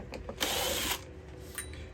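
Power drill removing Phillips head screws from the top of an Oreck Conquer vacuum cleaner, giving a loud whirring burst of about half a second between short mechanical clicks and taps.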